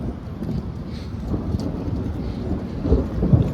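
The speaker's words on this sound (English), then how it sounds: "Thunder, guys." Low, continuous rumble of thunder in an outdoor downtown Edmonton setting, with rain about to fall; the deep roll swells slightly toward the end, and no talk is heard over it.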